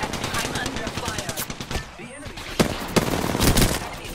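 Rapid automatic gunfire in the battle royale game Apex Legends, loud close bursts of rattling shots with brief gaps, heavy and continuous through the moment.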